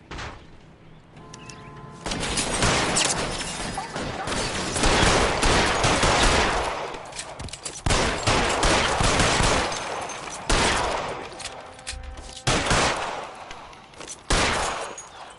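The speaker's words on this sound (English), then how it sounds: "Fire a warning round." Gunfire in the video game LA Noire during a shootout with security men: repeated loud bursts of shots and rapid fusillades across the whole stretch, separated by brief lulls, with no talking.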